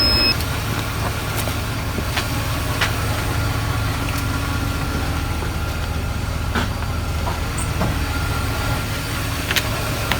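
A BMW 330ci engine running as it is revved after a battery install, a steady low rumble with a constant mechanical drone, close and loud with no talk.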